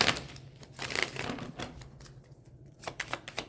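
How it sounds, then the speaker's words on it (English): Quick papery riffles and soft clicking bursts from a deck of cards being shuffled close by, in short irregular flurries with brief pauses between. "let's put that back in the deck. I'm going to shuffle and see what comes out"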